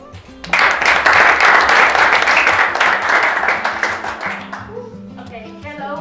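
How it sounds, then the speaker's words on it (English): Audience applause for a storyteller introduced as Carmen at a children's storytelling event, a dense burst of clapping that starts abruptly, holds steady and fades gradually, with a few voices near the end. "So please give an applause to Carmen."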